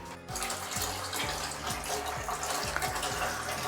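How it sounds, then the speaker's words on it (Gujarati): Water pours steadily from a household tap to fill a container, with the geyser switched on; a continuous close splashing rush with a brief dip at the very start, no voices. "તો પાણી ભરાય છે, ગીઝર ચાલુ કરી દીધું છે"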